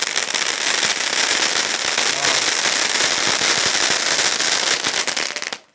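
A sizzler firecracker bursts on Diwali night, giving a loud, dense, nonstop crackle of rapid tiny pops close by that runs for several seconds before cutting off abruptly.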